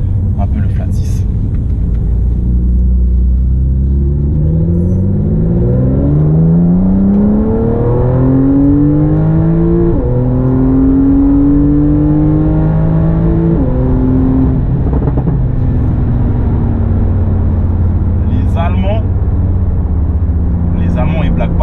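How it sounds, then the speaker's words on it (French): A Porsche flat-six engine pulling hard onto the highway, revving up through several rising gear sweeps with a loud, close rumble, then settling into a steady cruise drone. "là on arrive sur l'autoroute, on va pouvoir laisser respirer un peu le flat 6"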